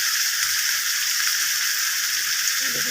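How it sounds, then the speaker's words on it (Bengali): Boiled, salted chickpeas hitting a hot pan for mochar ghonto produce a loud, steady hiss and sizzle, close up and unbroken, with no talk over it. "ছোলাগুলো দিয়ে দিলাম, ছোলাগুলো সিদ্ধ করা, নুন দিয়ে সিদ্ধ করা ছোলাগুলো"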